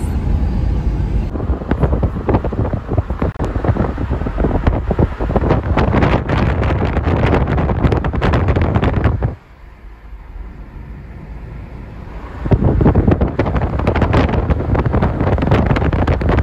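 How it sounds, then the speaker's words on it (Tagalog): Strong seaside wind at Hayling Island buffets the microphone in loud, rough gusts, dropping briefly to a quieter lull before the blustering returns. "So, mahangin siya. Sobrang hangin."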